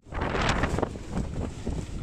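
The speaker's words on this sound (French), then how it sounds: "première rafale de vent" A sudden gust of wind roars across a boat's microphone as a dark rain squall sweeps in off the Atlantic side of Martinique, a loud, steady rushing blast with no voices.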